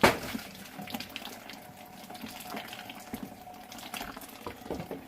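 Tap water runs steadily into a homebrew vessel, a continuous close splashing fill with small surges, heard alone without talk.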